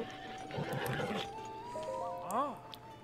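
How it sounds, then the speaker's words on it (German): Wild horse in The Legend of Zelda: Breath of the Wild gives a single loud, close whinny with rising and falling pitch, preceded by hoof clops and game chimes. "Du scheinst ein Wildpferd gefangen zu haben."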